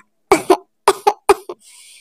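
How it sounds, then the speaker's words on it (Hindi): Three pairs of short, close coughs from a cartoon child character come in quick succession, followed by a faint airy hiss trailing off. "शहद खाने से कुकू की खांसी ठीक हो जाएगी।"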